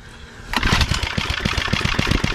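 A garden tiller engine is pull-started at full throttle, catching after a brief quiet moment and running loud and rough with a fast, pulsing chug close by.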